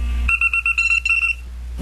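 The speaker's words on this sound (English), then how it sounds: "Oh, it's an alarm." An electronic alarm goes off in a series of quick, loud, shrill beeps, roughly eight pulses in a row before it cuts out, over a steady low hum.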